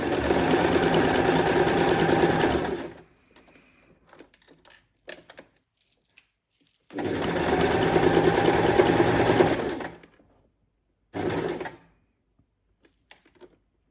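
A sewing machine stitches hessian for a rice-filled needle felting mat and runs backward and forward to reinforce the seam, giving two long loud whirring runs of about three seconds each and a short final burst, separated by quiet handling clicks.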